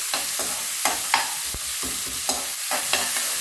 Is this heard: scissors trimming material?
no